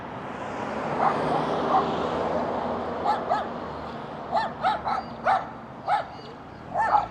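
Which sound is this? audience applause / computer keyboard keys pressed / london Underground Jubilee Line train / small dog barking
small dog barking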